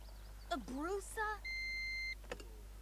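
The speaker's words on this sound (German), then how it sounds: "Eine Kaffeemaschine, die piepst mit einer Kaffee durch, ist okay." An ordinary drip coffee machine in The Sims 4 gives a short steady electronic beep, preceded by brief chirpy synthetic game sounds and a soft steady hum, with no talk over it.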